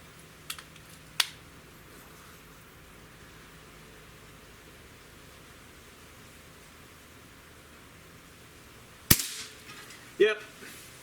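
Air Arms S500xs air rifle fired at a target 20 yards away: a sharp, sudden crack stands out over a steady background hiss, followed a moment later by a couple of fainter clicks.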